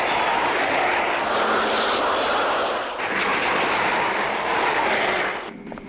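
A delta-winged, high-tail plane flying overhead, a steady loud roaring engine drone lasting several seconds with a slight dip midway and a tapering end, with no voices.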